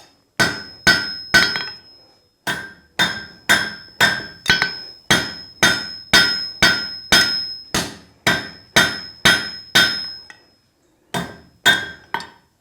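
A hammer strikes hot metal while forging a fancy fork on an anvil, giving about twenty loud, ringing, evenly spaced blows with a clear metallic ring, close up, with a brief pause near the end and no talk.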